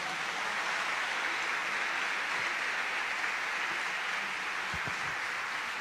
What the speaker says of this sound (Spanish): Dale un aplauso al Señor ahí, vamos.